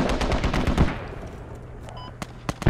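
Mortar rounds fire in rapid succession in the video game Squad, a dense string of loud booming shots that trails off into scattered single blasts and distant impacts, with no talking over them.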